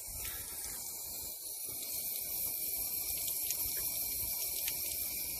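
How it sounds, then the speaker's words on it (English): An outdoor garden water tap leaking, giving a faint continuous hiss of running water with a few small splashes, steady throughout and with no talking. "I'll have to put some washers in this tap, it's leaking."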